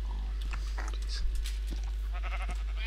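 Sheep bleat in the game Minecraft, several short, close, wavering calls scattered over a few seconds amid a low steady hum.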